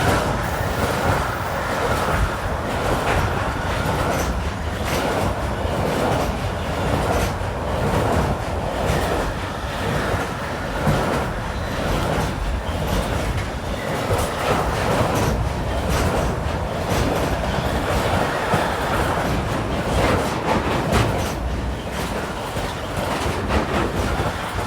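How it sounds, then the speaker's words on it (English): A DB Class 185 electric locomotive hauls a container train past at trackside, a steady loud rumble of wheels and wagons with rhythmic clickety-clack over rail joints throughout. "Here is a 185 hauling some containers."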